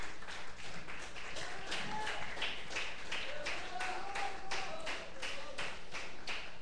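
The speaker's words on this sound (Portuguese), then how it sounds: "Dê uma salva de palmas porque Jesus merece." A church congregation claps together in a steady, even rhythm, a moderately distant wash of hand claps that continues throughout.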